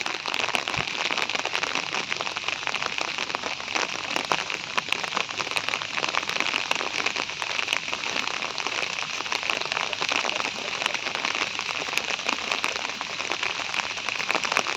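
Steady rain falls near a pond in a small Bangalore park, a constant close hiss of drops pattering on surfaces with scattered crackling taps, continuing evenly throughout with no voices.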